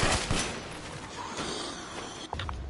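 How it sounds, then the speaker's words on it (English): Gunfire in Resident Evil Village, a few loud shots near the start followed by lower action noise and another sharp report near the end, fairly quiet overall. "I try to be careful with my shots."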